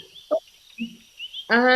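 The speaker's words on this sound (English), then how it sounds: "It's so nice to hear all the frogs back" Frogs croak at night in the wild, scattered short calls near and far over a steady high insect-like trill, ending with a louder, buzzing chorus burst.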